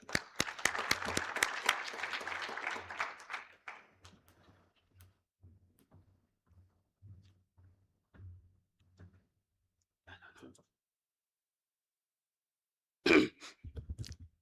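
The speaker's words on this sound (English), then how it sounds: "We can clap for him." Audience applause at a health integration summit, a dense burst of clapping from a crowd that fades after about four seconds, followed by quiet footsteps or knocks and a brief clatter near the end.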